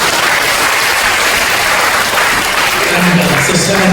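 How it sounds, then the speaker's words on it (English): A hall audience at a World Day of Migrants and Refugees gathering breaks into loud, sustained applause, a dense unbroken wash of clapping from many hands. "We give her a big clap of applause"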